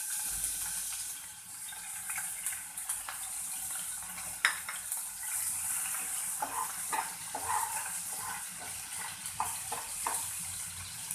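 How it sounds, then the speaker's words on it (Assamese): Chopped ginger and garlic fry in a pan for chilli paneer, giving a steady bright sizzle throughout, with occasional soft clinks and stirring sounds. "আদা নহৰুখিনি অকণমান ফ্ৰাই নিচিনা হ'বলৈ দিম"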